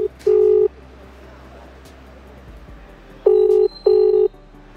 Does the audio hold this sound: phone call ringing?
yes